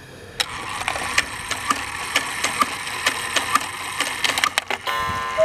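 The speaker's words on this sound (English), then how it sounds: "Well, at least the cuckoo gong is working." Antique Black Forest cuckoo quail clock striking, a run of sharp, evenly spaced metallic hits ringing out clearly and alone, ending in a brief clatter.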